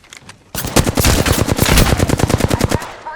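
Rapid automatic weapon fire in the battle royale video game Apex Legends, a loud, close burst of about twenty evenly spaced shots lasting a couple of seconds, with faint sounds before it starts.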